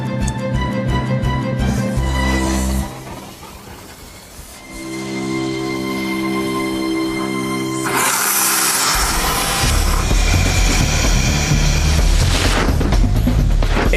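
Rocket-powered aspirator inflating an aircraft escape slide, a loud blast followed by a sustained roaring rush with a booming surge partway through, under a bed of music.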